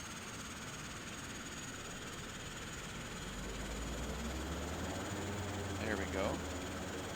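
A Saab 340 turboprop engine starts up in a flight simulator game, a faint low rumble that swells about halfway through and holds steady, with someone speaking briefly near the end.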